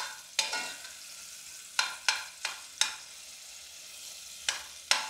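Frozen garlic fries in a pan for a potato recipe: a steady low sizzle broken by several sharp, close clicks and scrapes of a utensil stirring at uneven intervals.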